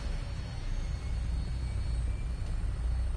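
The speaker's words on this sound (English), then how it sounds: "Welcome aboard, Knight. Stand by for takeoff." A Vertibird aircraft lifting off in Fallout 4, heard as a steady, loud low rumble of engines and rotors droning continuously throughout with no talk.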